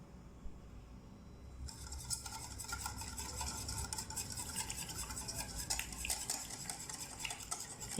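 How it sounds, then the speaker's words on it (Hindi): Three eggs whisked together in a bowl, a steady brisk clatter of utensil against the dish that carries on for several seconds after a quieter start, with no talking. "इन्हें बहुत अच्छी तरह से फेंट लेना है, बिल्कुल मिक्स कर लेना है।"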